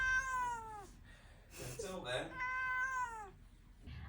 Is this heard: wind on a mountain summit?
no